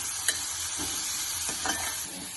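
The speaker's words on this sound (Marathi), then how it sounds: "आणि नंतर मिरची टाकायची. ती परतून घ्यायची आहे." Green chillies sautéed in a pan with onion, a dense steady sizzle close by, broken by a few soft stirring scrapes, with no voices.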